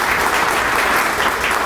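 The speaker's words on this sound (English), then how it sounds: "give Brian and the entire airport staff that are here today a big round of applause if we can" A crowd gives a big round of applause for airport staff at a renovation announcement at Hopkins Airport, a loud, dense wash of clapping with no pauses.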